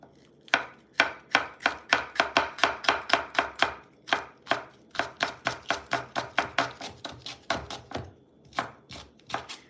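A knife chops onions on a cutting board with a fast, steady run of sharp close knocks, a few dozen in quick rhythm with brief pauses, loud and clear and with no voices.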